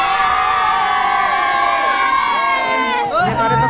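A large crowd cheers and shouts at an outdoor Janmashtami celebration at a police line in Gopeshwar, a dense, loud wall of voices with high tonal sounds running through it and a surge near the end.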